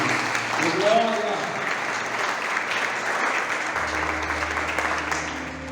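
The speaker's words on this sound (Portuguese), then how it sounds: "Vamos aplaudir ao Senhor em nome de Jesus" A church congregation claps together in sustained, dense applause throughout, with voices calling out briefly over it near the start.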